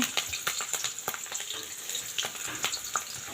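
Onions and green chilies fry in hot oil in a pan, a loud continuous sizzle and crackle with frequent popping bursts throughout.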